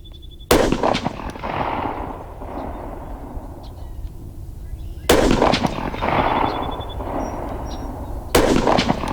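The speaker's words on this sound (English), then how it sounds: "If you guys ever shot pistols at 100 yards, you know what I'm talking about." Three loud, sharp shots from a Ruger 57 pistol fired at a 100-yard target, spaced several seconds apart, each followed by a booming echo that rolls away across an outdoor range.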